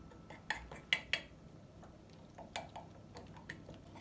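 A spoon stirring a batter of oats, flour, cocoa and baking powder in a bowl, a few faint, sharp clinks against the side at irregular intervals, alone with quiet gaps between.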